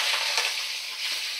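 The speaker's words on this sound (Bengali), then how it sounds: "আমি কড়াতে চিংড়ি মাছগুলো দিয়ে দিলাম।" Prawns fry in a wok, a steady bright sizzle that holds throughout without any talk.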